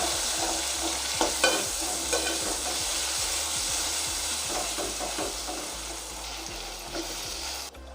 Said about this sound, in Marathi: हा जो लाल तिखट मिरचीचा मसाला केलेला आहे हा आपण व्यवस्थित परतून घेऊया